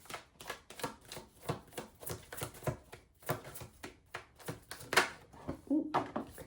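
Tarot cards shuffled and handled in a series of quick, close riffling bursts and soft slaps, repeating rhythmically with brief pauses, with no talk over them.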